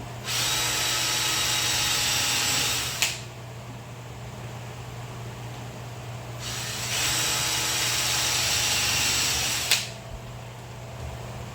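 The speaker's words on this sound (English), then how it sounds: "I'm going to drill them for this side real quick." A power drill pre-drills holes in cheap wood for a twin bench, running in two long, loud bursts that each end with a sharp stop, with a quiet pause between them.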